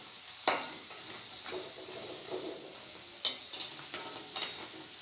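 Oil frying in a pan while cooking urad dal vada: faint, soft sizzle with scattered light clinks and pops of a utensil, fairly quiet and with no talking.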